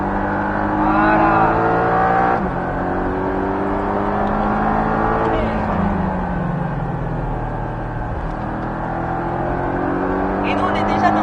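Porsche 718 Cayman S engine on the Bresse race circuit, droning loudly and continuously with rising and falling revs through gear changes, heard from inside the car beneath an instructor's spoken coaching.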